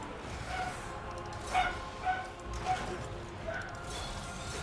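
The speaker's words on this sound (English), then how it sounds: "Even the dog's excited for our win." A dog in a video game barks a few times over a steady bed of game ambience and music, the yips rising briefly above the background at even intervals.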